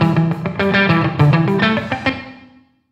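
Electric guitar chords strummed in a steady pattern, blending a fully wet reverb track with a dry track, a roomy reverb tail trailing out and fading to silence at the end.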